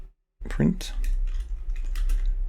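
Keyboard typing with irregular clacking keystrokes close to the microphone, over a steady low hum, with a brief voice-like sound near the start.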